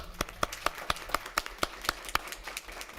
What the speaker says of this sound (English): And I just want to give you a round of applause for being here.